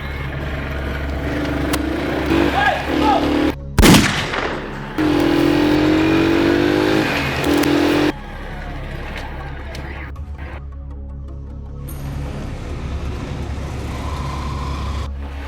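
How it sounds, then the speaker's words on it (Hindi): A motorbike ridden fast along a road gives a steady engine drone with wind rush and a few surges, loud and close, with voices talking over it early on. "बस आप बाइक चलाओ तेज"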